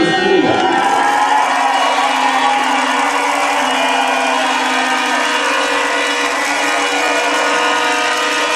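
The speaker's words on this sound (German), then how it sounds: "Applaus von Marsch, Strausberg" A large outdoor crowd claps and cheers loudly and steadily after a fanfare band march by the Fanfarenzug Strausberg at the Fanfaronade 2008, with sustained instrument-like tones lingering beneath the noise.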